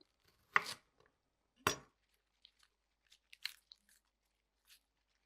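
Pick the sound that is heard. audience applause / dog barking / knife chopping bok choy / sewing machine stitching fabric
knife chopping bok choy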